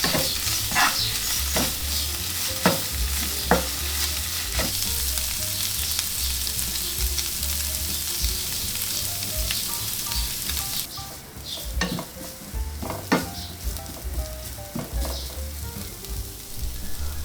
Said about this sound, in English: You have to keep stir frying for about 5 minutes, and please make sure that you cook it in low heat to avoid burning.